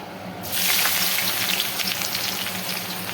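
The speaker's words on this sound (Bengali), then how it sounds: "পেঁয়াজটাকে আমি এখন এভাবে গোল্ডেন করে ভেজে নেব" Sliced onion for spicy mutton kosha drops into hot oil after a moment of quiet, setting off a sudden loud hiss that settles into a steady close sizzle with no voices.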